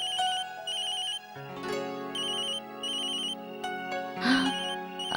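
A telephone ringtone plays a repeating electronic melody loudly and up close for several seconds, in a Tamil television drama scene, with no one speaking over it.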